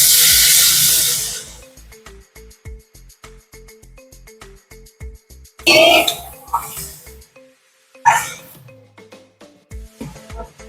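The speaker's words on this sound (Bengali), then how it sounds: "ঝোলটা ফুটেছে" Rui fish curry gravy made with poppy seed and cashew paste boils in a pan, with a steady rhythmic bubbling patter and a few sharp, loud hissing bursts of steam.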